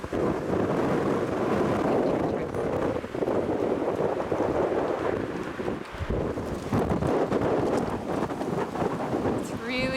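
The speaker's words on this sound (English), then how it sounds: "It's so windy and cold." Strong cold wind in New Hampshire roars and buffets the microphone steadily throughout, a loud, continuous gusting rush with no pauses.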